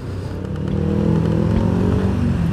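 Honda Scoopy scooter being ridden, its engine a steady, loud close drone that builds slightly as it moves, with faint clatter and no talking.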